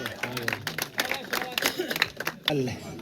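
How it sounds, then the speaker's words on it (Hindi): Crowd clapping for a cricket player receiving a batting award at a local tournament ceremony, scattered claps mixed with loud talk and cheering voices over it. "एक बार जोरदार तालियां इस खिलाड़ी के लिए"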